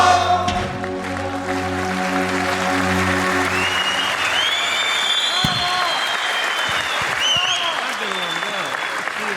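A large audience at a meykhana concert bursts into sustained applause as music fades out, with cheers and whistles rising over the steady clapping.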